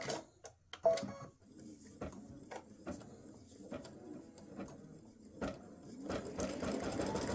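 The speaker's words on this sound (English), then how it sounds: "it's going to stitch green on either side of all the pink." An embroidery machine stitches green thread, giving off a rhythmic series of mechanical clicks and needle thumps, fairly quiet and close, with a rising whir near the end.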